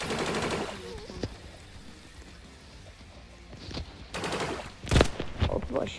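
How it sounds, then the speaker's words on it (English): Bursts of gunfire from the online shooter game Hypershot, several sharp volleys at the start and near the end with quieter stretches between, loud and close. "Oh, people are shooting at me. Someone has a sniper, bro."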